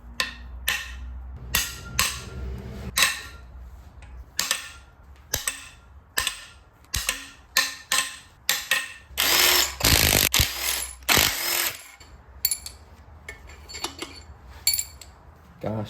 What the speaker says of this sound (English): So we're ready to crack the head bolts, so let's get some good cracking going